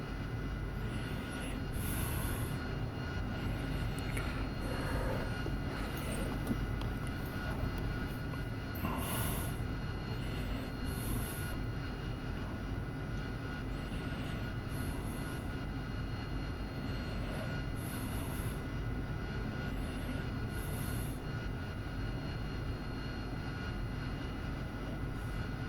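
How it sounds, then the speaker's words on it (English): A military jet engine in the DCS flight simulator winds up toward full power on the runway, a continuous loud roar that holds steady throughout with faint intermittent clicks. "10 seconds to run is probably okay to go full power or start winding the engine up."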